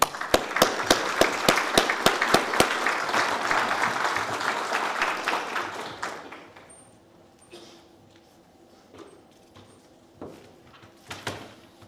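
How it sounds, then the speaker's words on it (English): An audience at a university alumni hall of fame induction ceremony applauds, with sharp individual claps over a full round that fades out after about six seconds into quiet room noise and a few scattered late claps. "Let's give a round of applause to Charles Louis."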